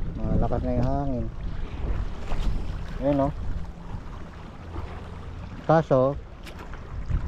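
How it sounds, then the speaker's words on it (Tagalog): Strong wind blows across an outdoor fishing spot where an ultralight rod is rigged. A steady, rough rushing noise runs throughout, and someone talks over it in short bursts. "malakas na yung hangin"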